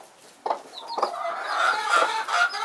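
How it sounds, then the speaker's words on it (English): An Icelandic rooster clucks in short, loud, close bursts while chasing a peahen around a farmyard, rising into a longer run of agitated calls near the end. "the rooster's chasing the peahen"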